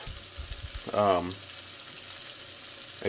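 Turkey and eggs frying in a pan, a soft steady sizzle close by, with a short voiced sound breaking in briefly.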